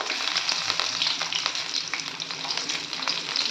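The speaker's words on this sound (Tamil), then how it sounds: "அடுப்பை சிம்மில் வச்சு நல்லா வதக்கிக்கலாம்" Dried red chillies, garlic and curry leaves sautéing in hot oil over a low flame, a continuous close crackling sizzle with small stirring scrapes and pops, no voices.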